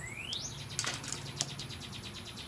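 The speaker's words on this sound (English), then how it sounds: "This bird is like stalking me. It's really happy today." A bird close by gives a quick rising chirp, then a run of light rapid flutters and ticks like wingbeats, fairly faint against a quiet room background with no speech.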